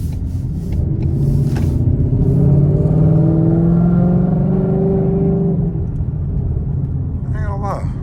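A Ford Mustang GT with a 10-speed transmission drives and swings through a U-turn, its engine a steady low rumble that rises and falls in pitch as it turns, with a brief squeak near the end.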